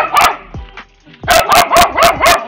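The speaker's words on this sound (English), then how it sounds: "This dog should calm down." A dog at a housing estate in Abuja barks in a burst of close, loud yaps, pauses briefly, then lets out a steady run of five rhythmic barks.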